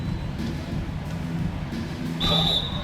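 A referee's whistle in an NBA 2K25 basketball game blows once for a foul, a short shrill tone rising above steady arena crowd noise near the end.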